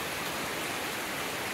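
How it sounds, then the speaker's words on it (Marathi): Sudden heavy rain falling in a Konkan village, a dense, even hiss of downpour that is loud and continuous. "मगाशी कडक ऊन होतं एकदम, आता एकदम पाऊस आला."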